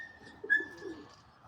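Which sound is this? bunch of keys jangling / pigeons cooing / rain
pigeons cooing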